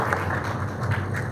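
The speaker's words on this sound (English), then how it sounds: "A round of applause, ladies and gentlemen" Audience applause at a university rectors' conference, steady dense clapping throughout, fairly close and even in loudness.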